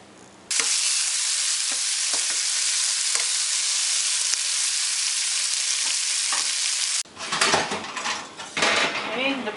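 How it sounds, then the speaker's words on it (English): Mushrooms and onions sautéing with salt and pepper in a pan give a loud, steady hiss for several seconds, broken by a few utensil taps and scrapes, then the frying turns patchier and clattery near the end. "I'm just going to add just a little bit of salt and pepper on them and give those a saute."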